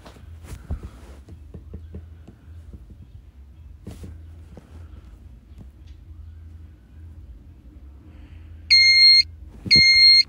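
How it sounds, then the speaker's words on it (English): A smoke detector in a Roblox fire alarm system test sounds two short, loud electronic beeping bursts near the end, after a stretch of quiet low hum and scattered faint clicks. "looks like that smoke detector is permanently activated"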